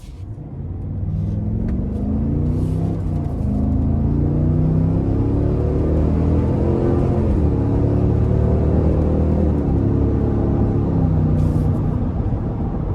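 A new 2025 Cadillac Escalade Platinum SUV accelerating hard, its engine rising through a sustained loud roar with audible gear shifts, heard from inside the cabin with no talking.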